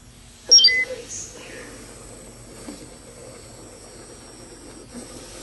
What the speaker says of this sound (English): Every intersection, he does a little beep, so you know he got there.